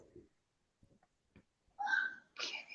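A single person sneezes indoors during setup for a live stream, a sharp two-part burst that follows a few quiet taps and faint murmurs, close and loud.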